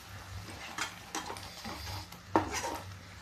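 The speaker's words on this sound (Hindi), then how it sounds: "इसको हम भूनते रहेंगे," Spinach dal with added ginger being stirred and fried in a pan, with a few scraping clinks of a spoon against the pan over a low background hiss, close and moderately loud.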